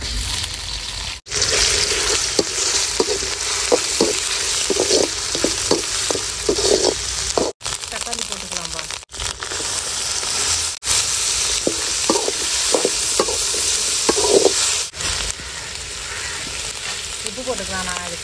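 Ginger and garlic frying in a hot pan for a village-style turkey fry, loud continuous sizzling with repeated scraping stirs of a spoon, close up, with a few abrupt breaks.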